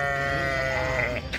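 Ewes with lambs at a livestock bazaar in Taraz, Kazakhstan, one loud, close, drawn-out bleat lasting about a second.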